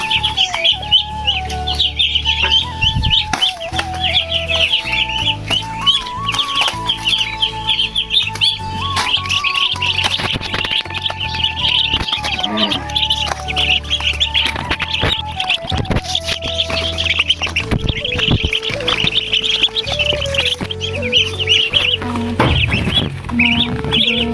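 Ducklings in a crate keep up a constant, busy chorus of high, shrill peeping close by, with many overlapping calls and some rustling movement, and no talking.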